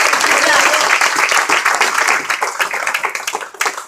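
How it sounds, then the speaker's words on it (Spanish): Strong applause from a congregation at an evangelical church service, loud close clapping that thins into scattered, uneven claps as it fades, with some voices mixed in. "dale ese fuerte aplauso"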